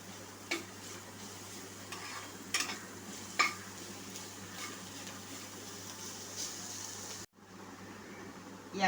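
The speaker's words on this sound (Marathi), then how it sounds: "यामध्ये थोडंसं मीठ घालते, म्हणजे कांदा लवकर परतला जातो" Chopped onion sautéing with a pinch of salt in a pan over a medium gas flame, a steady soft sizzle with occasional stirring scrapes, close and fairly quiet throughout.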